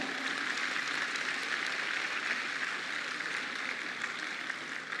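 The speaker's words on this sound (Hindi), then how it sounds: "ऐसी मेरी बहनों अपने लिए जोरदार तालियां बजाओ।" Women gathered in a hall applaud, a steady, even patter of many hands heard somewhat distant and soft, continuous throughout.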